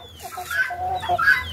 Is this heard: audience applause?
no